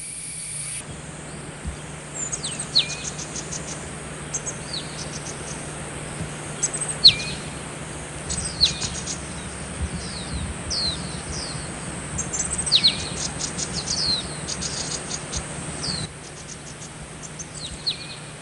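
Green-backed tits calling in a territorial squabble, repeated sharp high chirps and short trills scattered over nearly twenty seconds against a constant bed of insect-like buzzing and outdoor background hiss, fairly close.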